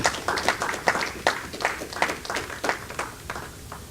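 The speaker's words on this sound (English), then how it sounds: "Could you give them a round of applause" Steady clapping from a group, moderately loud with a regular rhythm, continuing throughout without talk.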